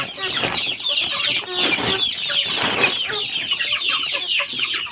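A flock of month-old Thai native fighting chickens on a farm clucks and peeps continuously up close, a dense overlapping chorus of many birds.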